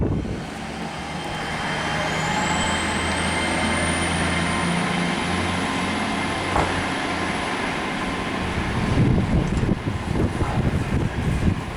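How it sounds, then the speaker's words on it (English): A Paragon electric passenger train passes close by on the line near Doncaster and Sheffield, a steady rumbling roar with a rising whine, swelling into rattling wheel clatter toward the end. "Them trains look stunning indeed."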